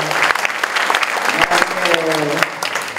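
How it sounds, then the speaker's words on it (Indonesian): Applause from an audience welcoming an ustadz at a religious gathering, a dense burst of clapping with sharp individual claps standing out, fairly close and loud, with voices faintly underneath. "Tepuk tangan untuk beliau"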